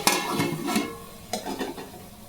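Curry being tipped into a cooking pot, with a few close scraping and clattering knocks of a utensil against the pot, irregular and moderately loud, then a faint soft sizzle.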